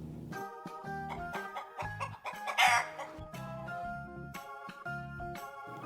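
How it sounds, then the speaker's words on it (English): A chicken clucks in a rapid series of short, close calls, joined partway through by a brief louder squawk that rises above the steady rhythm. "A chicken says, cluck, cluck, cluck, cluck, cluck."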